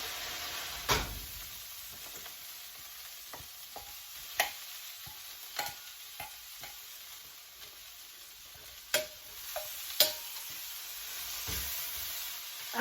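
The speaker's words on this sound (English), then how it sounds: "the only thing that really has to cook here are the onions" Onions sizzle softly in a pan with a low frying hiss, broken by scattered clicks and scrapes of stirring, some sharper knocks standing out, with no voices.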